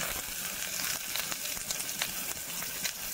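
Garlic paste and onion frying in hot tempering oil, a steady close sizzle with crackling spits throughout, no talking.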